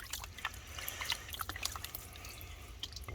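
Water trickles and drips through a gold prospecting sluice, soft and close, in a steady low stream with scattered small splashes and no talking.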